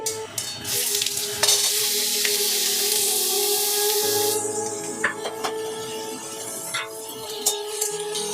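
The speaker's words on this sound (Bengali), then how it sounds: "আলুটা বাদামি কালারের করে ভেজে নেব" Small pieces of potato with dried red chillies frying in oil for a Bengali banana flower dish, a loud steady sizzle with occasional stirring clinks and scrapes of a spatula in the pan, no speech.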